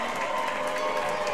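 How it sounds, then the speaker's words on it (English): A high school girls' basketball crowd, on its feet with the game tied late, claps and cheers in a dense, steady roar that fills the whole brief moment. "Crowd on their feet"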